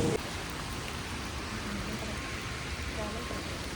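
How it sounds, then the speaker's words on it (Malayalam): Steady rain falls outdoors in Greenwich, London, a constant broadband hiss at even loudness through the whole clip, with faint traffic-like rumble underneath and no voices. "അത്യാവശ്യം നല്ല മഴയുണ്ട്."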